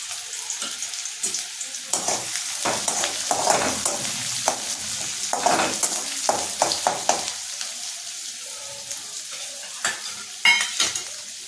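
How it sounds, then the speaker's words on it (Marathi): Onion, green chilli and curry leaves fry in hot oil for kadepohe with a loud, crackling sizzle, while a spoon stirs and scrapes the pan in repeated bursts. "जिरं टाकलं की कांदा टाकून द्यायचा. कांदा, मिरची आणि कढीपत्ता."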